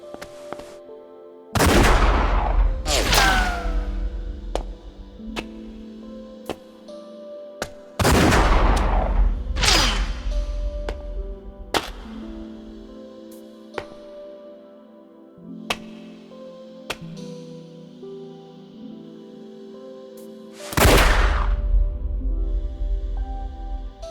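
Video game gunfire in the Yakuza title Like a Dragon: three loud, booming bursts of shots, each trailing into a decaying echo, spaced several seconds apart over a steady low ambient bed.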